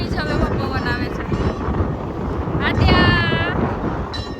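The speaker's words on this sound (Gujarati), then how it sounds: "ઠંડો ઠંડો પવન આવે છે" Cold wind blowing hard at the Girnar ropeway, a steady roaring rush buffeting the microphone throughout, with voices talking over it.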